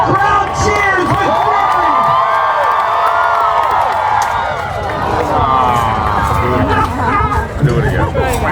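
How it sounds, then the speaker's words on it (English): A crowd at a Renaissance Fair joust cheers and shouts loudly and steadily, with excited children's voices and general chatter mixed into the roar. "The crowd cheers with"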